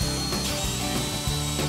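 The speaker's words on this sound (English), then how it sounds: "Now, when I drill my 7/16 bit, I'm only going to go through this side" A power drill with a 7/16 bit bores through a wooden entry door for a deadbolt, giving a loud, close grinding whir with brief dips as the bit bites and pauses.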